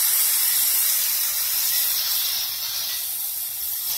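Pork chops browning in a pan give a loud, steady hiss of sizzling fat that runs unbroken and close, with no voices.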